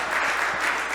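A church gathering applauds the people who cooked the shared meal; a brief burst of soft, continuous clapping from a group, fairly quiet and lasting only a moment.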